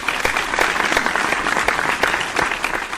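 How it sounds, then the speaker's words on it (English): Continuous round of applause, dense and fairly close, a steady wash of many hands clapping throughout with no voices on top. "Can we all give this beautiful sneaker a round of applause?"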